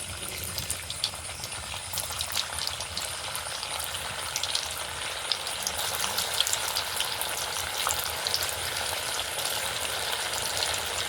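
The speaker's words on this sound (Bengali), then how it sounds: "এবারে একটা একটা করে এগুলো তেলের মধ্যে ছেড়ে দেবো।" Snack pieces, made from two simple home ingredients, fry in hot oil with a steady, dense sizzle and bubbling that stays close and even throughout, with occasional light stirring clicks.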